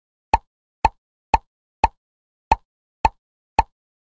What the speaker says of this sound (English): Tap on the bubbles.